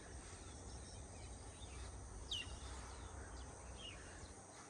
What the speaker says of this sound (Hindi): सारी चिड़िया के चहकने की आवाज़ आ रही है।